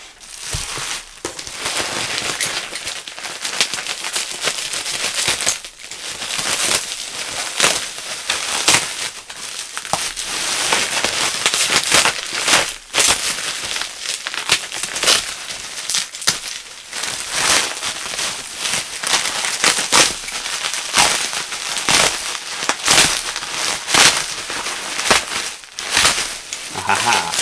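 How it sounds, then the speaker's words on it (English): A PC packed in plenty of bubble wrap is unwrapped up close, producing loud, continuous crinkling and crackling plastic rustles with brief pauses, going on for a long stretch. "Quite a lot of bubble wrap in here."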